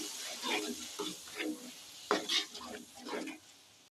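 Ground spice paste sizzles in a hot pan while being stirred, with a soft scraping stroke roughly every half second over a steady crackling fry, heard up close.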